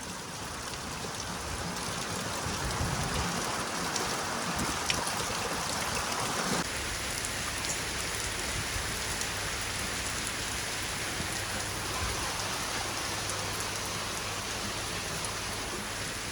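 Unseasonal rain falls steadily on farm fields of groundnut and other crops, a dense, even hiss of drops on surfaces that continues throughout without talking.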